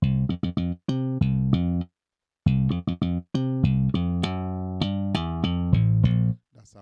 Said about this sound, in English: this bass sounds like this dry without anything right now.